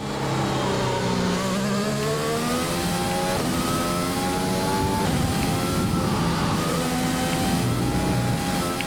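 A race car in a racing video game at the Bahrain Grand Prix, its engine howling and climbing steadily through gears on a fast straight, loud and close, with shifts breaking the rising whine.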